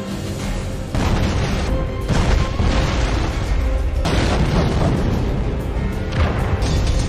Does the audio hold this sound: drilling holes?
no